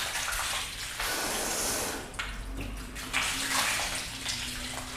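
Water pours and splashes heavily over a waxed car's paint in uneven surges, with brief pauses and gurgling runoff, loud and close.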